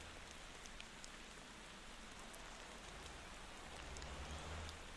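Steady rain falls in the driving game Motor Town, an even, continuous hiss with a low rumble swelling toward the end and no voices.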